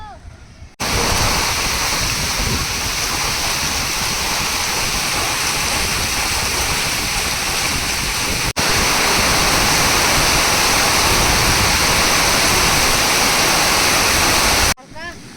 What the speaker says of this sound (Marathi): मित्रांनो पाऊस एवढा पडलाय